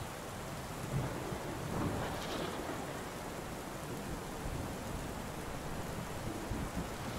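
Steady heavy rain with rolling thunder throughout a thunderstorm, a dense continuous wash with low rumbles swelling near the start and middle, no voices.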